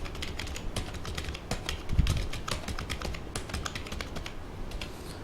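Fast, steady typing on a computer keyboard while writing text in Microsoft Word, a dense run of close, crisp key clicks with no talking.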